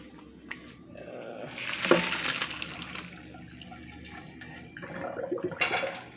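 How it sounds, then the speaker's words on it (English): Pasta water gushes and splashes into a sink in two strong pours, with a hissing, steamy rush between them. "Okay, you guys, I'm about to drain my pasta."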